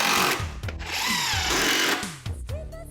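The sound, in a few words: power saw sawing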